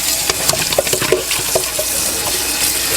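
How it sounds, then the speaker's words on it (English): Potatoes in a pot rinsed under a running sink tap, close and loud water spray with irregular knocks and sloshing as the potatoes are moved about, no talking. "Just rinse them off."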